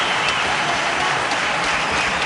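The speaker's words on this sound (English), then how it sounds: "he deserves the applause" A cricket stadium crowd applauds a batsman reaching fifty, a thick, even roar of clapping that holds steady and loud for the whole stretch, without commentary over it.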